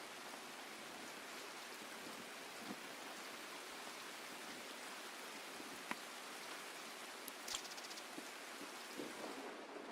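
Steady rain pattering down in the video game Escape from Tarkov, a constant wash of drops with a few faint clicks and knocks scattered through it.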